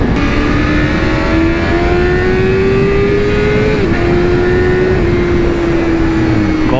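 A 2001 Suzuki GSX-R600 K1 sport motorcycle with a Yoshimura exhaust revs loud and close, its engine note rising steadily and then holding high through the gears, with a brief dip in pitch as it shifts.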